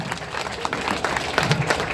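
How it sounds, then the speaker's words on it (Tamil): An audience claps steadily at a ceremony honouring a professor, a dense continuous patter of many hands with faint voices mixed in. "எல்லாம் கைத்தட்டுங்க."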